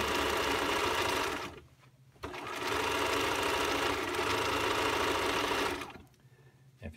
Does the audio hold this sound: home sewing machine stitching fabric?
yes